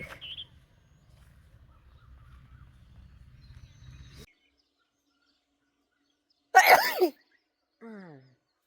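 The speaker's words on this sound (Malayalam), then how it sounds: "തുമ്മാൻ തുടങ്ങി ഞാൻ" A single sharp, loud sneeze bursts out outdoors on a cold morning after a stretch of quiet low rumbling, followed moments later by a brief vocal sound.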